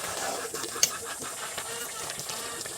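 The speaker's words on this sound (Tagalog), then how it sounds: "Kumukulo na." Steady hissing and bubbling of a pot of cassava leaves in coconut milk at a rolling boil, with faint pops and a brief sharp tick.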